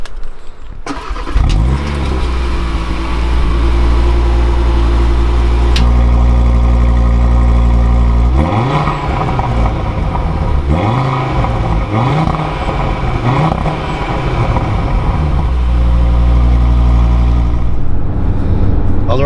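A 2022 Audi RS3 with a 2.5-liter five-cylinder engine cranks and fires loudly, settles into a deep steady idle, then gives a few rising revs before easing back to idle, close up.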